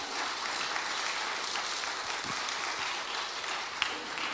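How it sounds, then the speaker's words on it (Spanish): Church congregation applauding during a sermon, a steady wash of clapping from many hands throughout, fairly faint and even, with no voice over it. "Denle otro fuerte aplauso al Señor"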